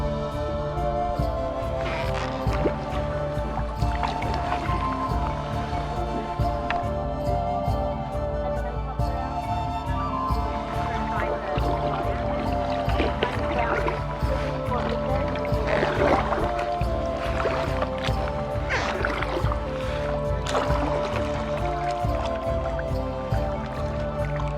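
A custom-made carbon fiber kayak glides through water with steady splashing, dripping and swishing from the paddle, loud and close throughout with no pause.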